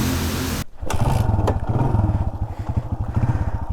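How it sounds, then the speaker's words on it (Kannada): A TVS Suzuki Fiero motorcycle, an old bike with a freshly rebuilt engine, kick-started once and catching immediately, settling into a steady, close single-cylinder thumping idle with a quick blip of revs. "ಒಂದೇ ಕಿಕ್ಕಿಗೆ ಗಾಡಿ ಸ್ಟಾರ್ಟ್ ಆಗಬೇಕು ಆಮೇಲೆ ಈ ಥರ ಇಷ್ಟು ರಿಫೈಂಡ್ ಆಗಿರೋ ಇಂಜಿನ್ನು"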